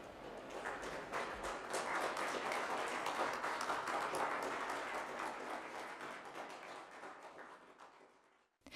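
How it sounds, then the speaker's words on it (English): Crowd applauding the naming and slipway launch of a Cromer lifeboat, a steady, loud wash of clapping from many hands that holds throughout and cuts off abruptly at the end. "she slid down the slipway to the applause of the crowd"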